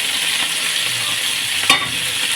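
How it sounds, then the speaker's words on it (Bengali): Spices and a bay leaf hit hot oil in a kitchen pan, giving a steady, close, loud hiss of sizzling with a single sharp clink partway through. "তেল গরম হয়ে গেছে, আমি সমস্তটা ছেড়ে দিই,"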